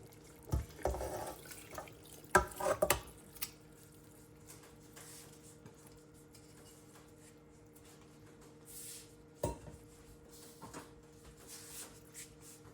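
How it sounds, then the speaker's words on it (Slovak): Sauerkraut with its juice tipped into a pot for Szeged goulash, giving wet sloshing and squishy splashes in a couple of short bursts early on, then quiet kitchen background with a few faint knocks. "A teraz do hrnca pridám kyslú kapustu aj s tou šťavou z kapusty."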